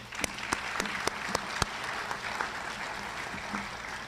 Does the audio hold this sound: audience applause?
yes